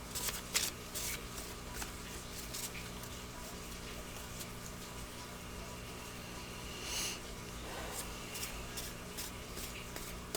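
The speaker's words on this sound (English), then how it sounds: "Let's get a couple more cards out." Tarot cards shuffled and drawn by hand, soft riffling and flicking pulses close to the microphone over a low room hum, quiet with scattered sharper snaps.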